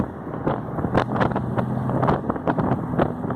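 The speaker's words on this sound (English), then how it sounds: "we're in 4th gear now." A 1970 Triumph TR6 cruising in fourth gear, its engine a steady low rumble heard from inside the cabin, buried under continuous wind buffeting and road noise with small knocks and clicks.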